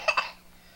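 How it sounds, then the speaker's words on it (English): Two quick, close coughs in a row from a person with a bad cough, sharp and brief, followed by quiet. "I have a bad cough."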